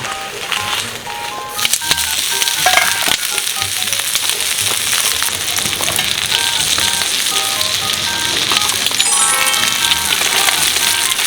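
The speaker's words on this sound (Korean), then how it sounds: "지금 두 판째 굽고 있습니다." Pork intestines (gopchang) sizzle loudly on a grill at a campsite, a steady close frying hiss that continues throughout with faint music playing underneath.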